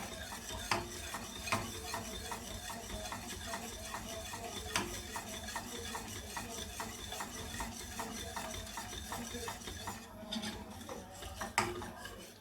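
Milk and melted cheese sauce being whisked in a pan for a large lasagne, a steady scraping, rasping stir with regular metallic clinks of the whisk against the pan, continuous and close throughout.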